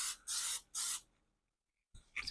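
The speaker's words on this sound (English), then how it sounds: "I'm going to spray some oil in here" Cooking oil sprayed from a can into a cast iron fluted cake pan: two close, loud hissing bursts in quick succession, a short pause of silence, then a shorter spray with a light metallic rattle.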